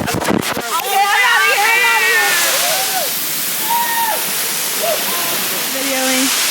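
A waterfall on a hiking trail gives a loud, steady roar of rushing water close by, with people talking over it.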